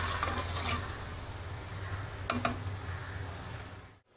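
Oyster mushroom fritters sizzle steadily in hot frying oil, a soft continuous crackle and hiss with a couple of sharp taps as pieces are lifted out.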